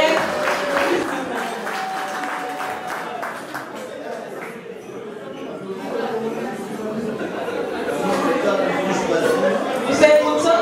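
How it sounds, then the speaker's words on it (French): A church audience applauds and cheers to encourage their pastor, a warm mix of clapping, chatter and scattered laughter rising and falling, with a voice talking over the crowd. "Nous acclamons pour notre papa, pour l'encourager."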